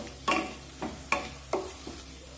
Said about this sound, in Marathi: आणि कोथिंबीर सुद्धा एखाद मिनिट यामध्ये परतून घेऊया।